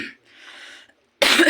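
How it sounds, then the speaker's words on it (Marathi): A single hoarse cough, short and close, followed by a brief pause and a louder burst of noise. "खोकला झालाय."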